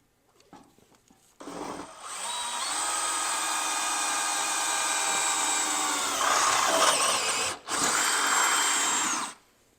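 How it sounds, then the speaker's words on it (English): A power drill spins up and bores a 5/16-inch hole through a fifth-generation Toyota 4Runner's liner for several seconds, whining close and loud, briefly stalls, then resumes before stopping. "So we can go ahead and drill right through that one."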